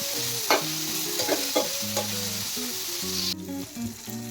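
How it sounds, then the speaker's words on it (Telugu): Brinjals fry in a pan for masala vankaya curry, a steady close sizzle punctuated by several sharp stirring scrapes, with a soft tonal melody running underneath. "టూ సైడ్స్ బాగా ఫ్రై చేసుకోవాలి వంకాయలన్నింటినీ"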